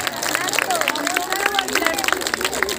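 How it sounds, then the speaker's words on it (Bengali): A crowd at a school sports day claps in scattered bursts amid outdoor chatter, while a voice calls out over a loudspeaker. "জোরে হাততালি জোরে হাততালি জোরে হাততালি।"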